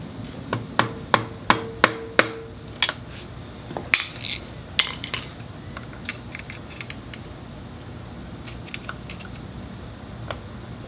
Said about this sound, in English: we have a lock tab, a little bent lock tab here, and we need to bend that off so we can remove this main nut.